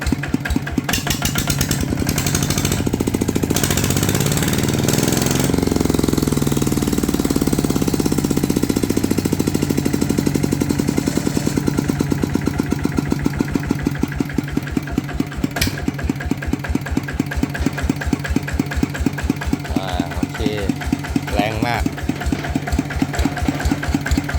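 A Kubota RT155 Plus engine in a Siam Plus X frame, with an open-through exhaust, runs close and loud throughout, a steady rapid thumping idle with slight shifts in pace and no talk over it.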